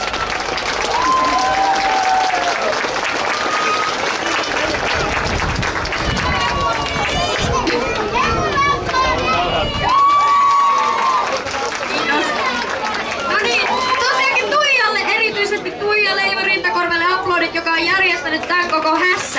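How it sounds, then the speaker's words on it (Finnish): Loud applause and cheering for camp participants at the close of a camp event, sustained clapping mixed with crowd chatter and whoops, with a voice talking over it throughout. "Annetaan vielä hurjat aplodit kaikille leiriläisille."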